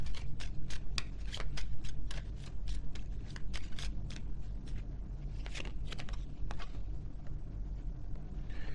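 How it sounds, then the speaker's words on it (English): Oracle cards being shuffled and drawn, with a quick series of crisp close riffling snaps and flicks that go on steadily over a low background hum. "Let me get some final oracle cards here."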